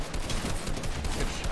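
Gunshots in a video game come as a brief, close flurry of rapid cracks, fairly quiet and packed tightly together over a second or so.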